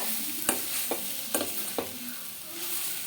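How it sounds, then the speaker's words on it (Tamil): Grated coconut and carrot sauté in oil in a pan, a soft steady sizzle broken by four sharp spatula scrapes and taps as the mix is stirred, close by. "இப்போ நான் வந்து தேங்காயை போட்டுட்டு நல்லா நான் அந்த கேரட்டோடு நல்லா கலந்து நமக்கு நல்ல ஒரு ரெண்டு மூணு நிமிஷம் நல்லா வதக்கி விட்டுடுறேன்"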